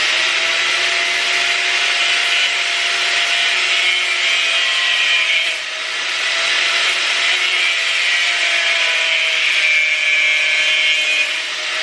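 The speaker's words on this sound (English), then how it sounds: "use a cutter wheel on a grinder and just grind this part down here" A grinder fitted with a cutter wheel grinds down a small stop on a bracket of an R32 Skyline held upside down in a vise, giving a loud, steady, continuous whine that dips briefly midway before resuming, with no talking.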